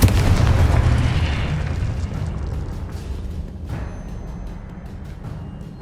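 A Confringo spell blast in the Hogwarts Legacy video game: a loud, booming explosion that rumbles on and decays over several seconds, with a second burst near the end.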